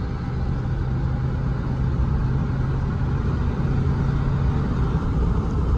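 Steady low rumble of a 5.3 Vortec V8 engine in a 2006 Chevy Silverado 1500 4x4 with 251k miles, deep and constant throughout, with no voices.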